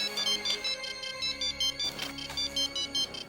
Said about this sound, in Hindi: आपका फोन आ गया